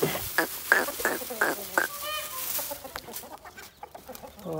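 Chickens cluck in a rapid series of sharp, close calls, and other birds chirp in the background of an outdoor yard, fairly loud, with no speech.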